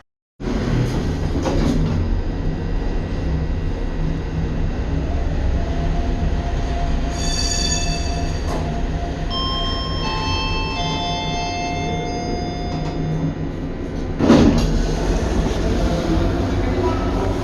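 Busy tram stop in central Wroclaw with rail rumble, high metallic wheel squeals from passing trams, and a bright chime-like tone sequence; no clear speech.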